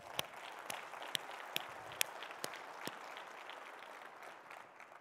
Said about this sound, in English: Another round of applause for our Tyndall Award winner.